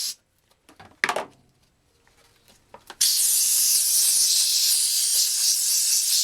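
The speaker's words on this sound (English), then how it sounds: "I'll use the steam machine and the soap" A steady, loud broadband hiss of a steam cleaner, used on Yamaha RZ 350 motorcycle tank and parts during restoration, starts abruptly and runs without pause, following a few scattered clicks and knocks.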